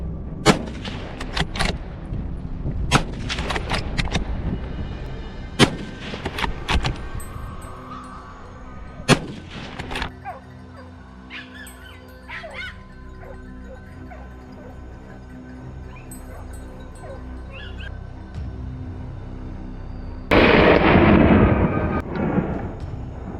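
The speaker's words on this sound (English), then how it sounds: "Gunshots echoed through the forest." Gunfire during a wild boar hunt in a forest: a burst of sharp shots in the first ten seconds, several close and loud, with echoing decay and rustling, scattered animal squeals, and a loud noisy surge near the end.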